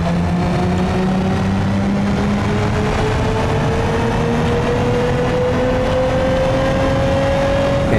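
A 3.5-liter V6 in an LS3500 all-wheel-drive sedan from the Urbanlore Bruckell M-body pack in BeamNG.drive drones steadily as it accelerates. The pitch climbs slowly through a loud, continuous engine note with no talk.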